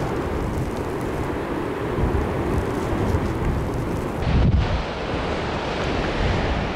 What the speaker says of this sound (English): it's very, very blustery out here in the swale. It's just too windy to shoot though.